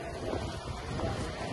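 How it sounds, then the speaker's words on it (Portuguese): Steady gusty wind buffets the microphone outdoors while a Ford F-75 pickup is loaded with freight, a continuous broadband rush with no clear speech. "E tá um vento"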